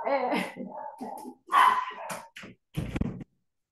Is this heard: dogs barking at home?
yes